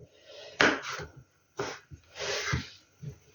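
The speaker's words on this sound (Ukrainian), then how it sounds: "Десь на сантиметр полоски нарізаю" A knife slices eggplant into strips about a centimetre wide on a board in several separate close strokes, each a brief scraping crunch with pauses between.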